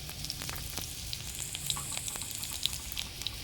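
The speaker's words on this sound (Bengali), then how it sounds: "পেঁয়াজটা ভাজা ভাজা হয়ে এসেছে। তার মধ্যে আমি একটু রসুন কুচি দিয়ে দিলাম।" Sliced onion and chopped garlic fry in hot oil in a pan for crispy potato chops, giving a steady close-up sizzle with small crackles and pops throughout and no talking.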